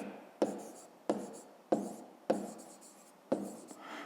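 A pen scratches across paper while working a math exercise, five distinct strokes in a steady rhythm, each a sharp onset fading into a scratchy trail, close and alone.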